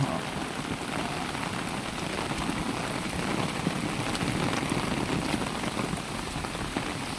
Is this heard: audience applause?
no